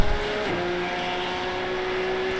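Porsche Cup race cars in the iRacing sim, with a loud continuous engine whine that steps in pitch near the start and then holds high and steady as the car overtakes, a race car sound close up.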